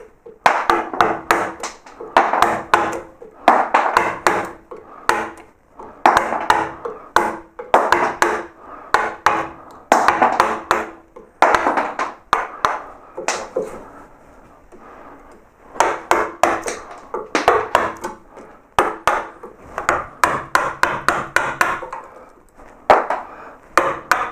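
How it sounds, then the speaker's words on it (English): A flat gouge or chisel is struck repeatedly with a mallet to knock big chunks off a wooden hare's head carving. Sharp, close wooden knocks come in rapid bursts, with a brief quieter pause midway. "I can take a flat gouge or a chisel and just knock all off."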